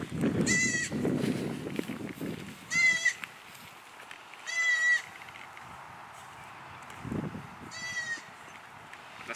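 Four separate high, wavering bleats of goats ring out a couple of seconds apart, over quiet rustling and a few low thumps.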